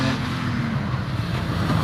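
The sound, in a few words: Jaguar E-Type racing at Harewood hillclimb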